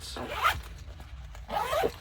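A zipper is pulled along the front pocket of a cheap everyday-carry bag in two close, loud rasping strokes separated by a short pause.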